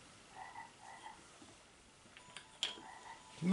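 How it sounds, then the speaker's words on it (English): Frog croaks in soft, repeated pulses, a few evenly spaced calls at low level over quiet background, followed by a sharper knock and a louder burst at the end. "It's a frog."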